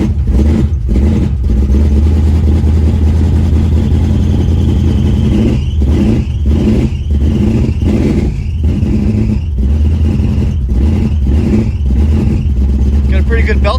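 A long-neglected 1970 Pontiac Tempest engine runs loud and steady, a shrill belt squeal rising and wavering above the rumble through the second half.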